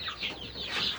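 A young hen clucks close by, giving a brief run of high, nasal clucks and squawks with no talking.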